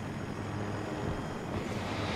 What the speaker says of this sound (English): that helicopter's gonna for sure kill me